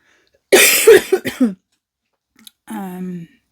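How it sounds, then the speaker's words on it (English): A person coughs a few times in quick succession, close and loud, then after a short pause clears their throat with a brief voiced sound. "I'm going to cough."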